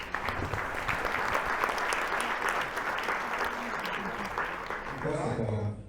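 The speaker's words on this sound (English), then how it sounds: "So I think this woman does deserve a big round of applause." Audience applause after a play performance in Sydney, a dense steady roar of many hands clapping that fills the room close up, with some talk and cheering rising over it toward the end.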